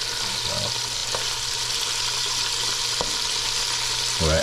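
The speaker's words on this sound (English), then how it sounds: "I'm going to give them a little pre-cooking in some butter and oil here" Meats sizzle loudly in butter and oil, a dense, continuous frying crackle close up, with a couple of faint clinks of a utensil and a brief scrape of stirring near the end.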